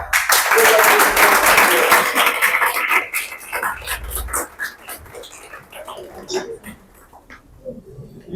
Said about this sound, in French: je vous demande d'applaudir Maître Wade